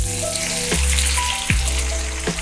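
Water poured into a hot pan of sizzling vegetables seasoned with soy sauce sets off a loud, continuous hiss, broken by a few sharp utensil clicks close by.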